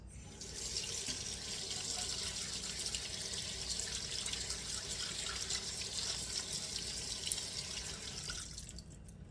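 Tap water runs steadily into a kitchen sink while blueberries are rinsed, a close, continuous splashing hiss that stops abruptly near the end.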